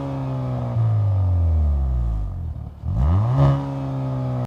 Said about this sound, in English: Here's how the AFE Teada exhaust sounds.